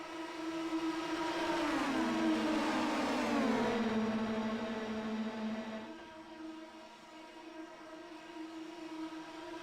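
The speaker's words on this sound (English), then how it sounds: "watch the sights and sounds for a little bit of these cars rumbling around here" Mazda-powered FR2000 open-wheel race cars during practice at the Pocono oval, an engine drone sweeping up and down in pitch as cars pass, loud and close at first, then a steadier, fainter hum after the pack moves away.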